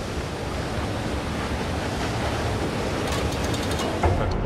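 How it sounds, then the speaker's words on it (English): Water flooding in within the dark puzzle game Limbo, a steady broadband rushing and roaring wash that holds even and loud, with brief splashy bursts near the end. "Let the water flood in, let the water flood in."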